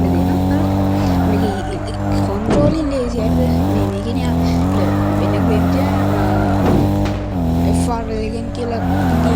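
Car drifting in the video game Drift Pro Max, a constant engine drone with shifting revs and wavering tire squeal, under someone talking throughout.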